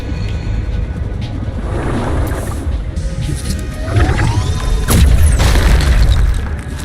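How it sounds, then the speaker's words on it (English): A deep booming explosion follows a shot in an underwater survival game, a low rumbling burst swelling near the end over murky ambient drones. "just shoot it and have the explosion hit it."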